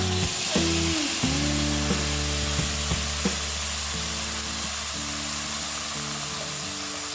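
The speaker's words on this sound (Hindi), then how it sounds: "2 मिनट इसे फ्राई कर लेंगे।" A paste of ginger, green chili and coriander with cumin fries in hot oil in a pan, giving a steady, loud, continuous sizzle throughout with a few faint scraping stirs.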